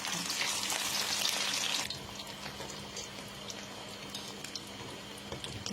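Pizza frying in a pan over a gas flame, a steady soft sizzle with watery crackle, louder for the first two seconds and then quieter and continuous.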